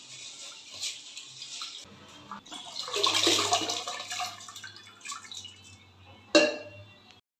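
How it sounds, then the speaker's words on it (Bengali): Rice being rinsed in water by hand, with close splashing, swishing and dripping in uneven bursts, a louder pour near the middle and a sharp splash near the end. "চালটা ধুয়ে নিই।"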